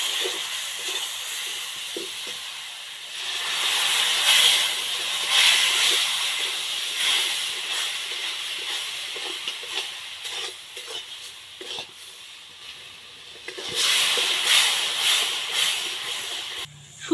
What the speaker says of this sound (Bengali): অল্প অল্প দুধ দিয়ে কিন্তু এটা নাড়াচাড়া করতে থাকা লাগবে